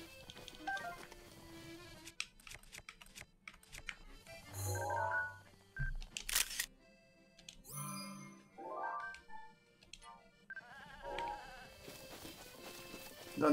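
A mountain goat in The Legend of Zelda: Breath of the Wild gives several faint bleats, scattered among game chimes and tinkling jingles.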